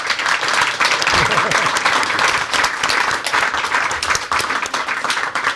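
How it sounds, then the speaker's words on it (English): Audience applause at a generative AI in healthcare event, dense steady clapping from a sizeable crowd filling the whole stretch at even loudness, close and continuous with no voices over it. "they really deserve a round of applause"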